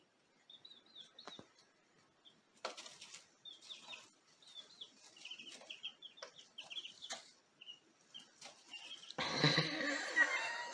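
Backyard chickens in a coop clucking and calling in short bursts, with a loud flurry of flapping wings near the end.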